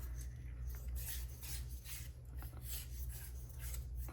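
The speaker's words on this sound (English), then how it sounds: "So let me unscrew it like that." The threaded battery compartment of a Coast XP11R flashlight is unscrewed by hand, giving soft, repeated rasping and rubbing scrapes close up, with no talking.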